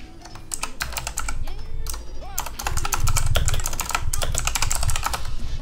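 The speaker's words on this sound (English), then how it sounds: "So my keyboard is really loud" Someone types in quick, loud bursts on a clicky computer keyboard close to the microphone, with dense clatter and short pauses between runs. A voice is faintly audible underneath.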